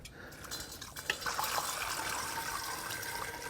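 Homebrew liquid is poured into a one-gallon brewing container, a steady close rushing flow that keeps up for several seconds after a few initial splashes.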